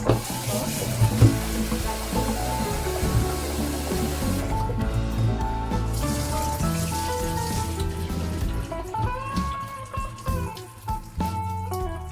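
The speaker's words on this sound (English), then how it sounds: "Gonna rinse them again." White beans rinsed under running water give a continuous, fairly loud splashing rush that thins out toward the end, with scattered clatter from the container.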